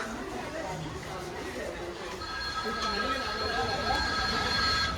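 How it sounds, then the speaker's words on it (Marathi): A Ganpati special passenger train from Mumbai Central to Sawantwadi Road pulls out of Borivali station. A steady rumble and thin wheel squeal build under continuous passenger chatter. "गाडी आपली सुटलेली आहे"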